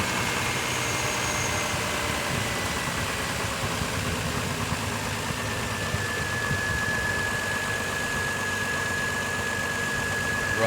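2002 GMC Envoy with a 4.2-litre inline-six engine idling after a fuel pressure regulator repair, a steady, even, close-up rumble with a faint whine and no voices.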